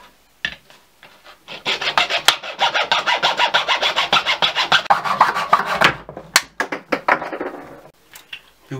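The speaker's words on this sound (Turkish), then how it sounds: "Şişelerin boyunlarını keserek başlıyoruz." Necks of plastic bottles are cut with a fast, steady run of rasping back-and-forth strokes that speeds up in the middle, then slows to a few separate scrapes before stopping.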